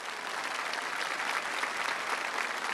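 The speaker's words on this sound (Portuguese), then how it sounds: "Salve de palmas para os nossos convidados que aqui estão." An audience at a televised Catholic program gives sustained, even applause for guests, a dense steady patter of many hands clapping without pause.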